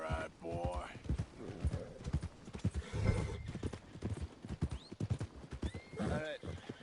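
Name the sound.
horse hooves clip-clopping and neighing in Red Dead Redemption II video game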